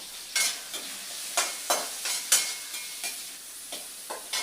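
Onion and curry leaves frying in oil, giving an up-close crackling sizzle with repeated bursts of stirring and spoon scrapes at an uneven rhythm and no talking.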